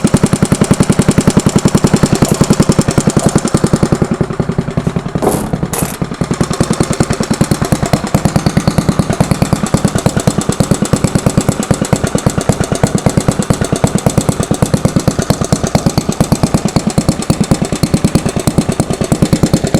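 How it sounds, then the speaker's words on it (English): A 74-year-old Briggs and Stratton small engine idles steadily on a dyno for the whole stretch, its rapid, even putter running loud and close with no break. "We'll just let the engine idle a little bit."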